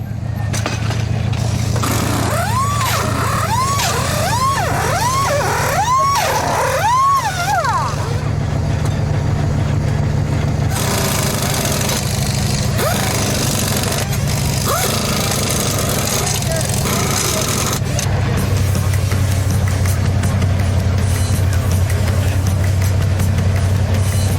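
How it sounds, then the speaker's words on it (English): A 2-wheel drive Truggie off-road race vehicle pulls into a pit stop for fuel and a rear tire change. Its engine roars and revs loudly, then settles, while someone talks over it. "here comes the 2-wheel drive Truggie for fuel and a scheduled change of the rear tires"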